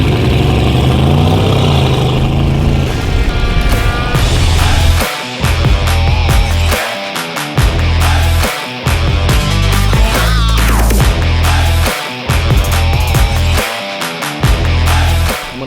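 A McLaren 720S engine runs loud and steady at a car meet, with a dense, continuous roar that briefly dips and surges several times.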